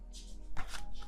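A large tarot deck is shuffled by hand, giving a quick, close riffle of papery card flutters in two or three short bursts.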